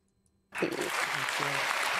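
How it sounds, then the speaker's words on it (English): A studio audience of women breaks into steady clapping along, starting abruptly and holding at an even, full level, with a few voices mixed in beneath the claps. "it's all the women just clapping along"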